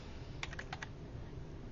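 Numbers are typed on a computer keyboard while entering total points possible in a Blackboard grade center, with about five quick, light key clicks in a short burst, followed by quiet room tone.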